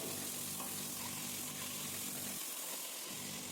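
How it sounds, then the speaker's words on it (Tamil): Ginger garlic paste, green chilies, curry leaves and mint fry in a pan with a steady, faint sizzle that continues throughout, briefly dipping under a soft stir partway through. "கொஞ்ச நேரம் நல்லா வதங்கட்டும்."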